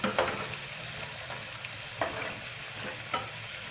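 Sabudana vada frying in hot oil and being flipped, a steady sizzling hiss broken by a few sharp scraping clicks of a spatula turning the fritters.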